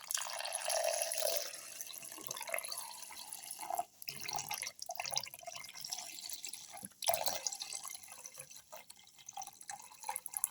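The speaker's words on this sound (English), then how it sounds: "pour in 300 ml of milk" Milk pours into a grinder jar in a kitchen, a faint trickling, splashing stream with scattered drips and short pauses, quiet and close, with no voices.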